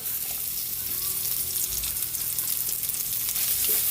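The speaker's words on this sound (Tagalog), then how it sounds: "Lagay na rin natin yung onion, buyas." Onion dropped into a hot pan for chicken adobo, giving a steady, loud sizzle that fills the whole stretch with dense crackling hiss, close up and with no voices.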